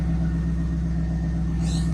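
A 1998 Pontiac Trans Am engine idles after a spark plug replacement, a deep, steady rumble with no exhaust popping, heard close and alone.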